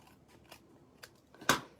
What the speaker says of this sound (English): I'm just going to trim the edge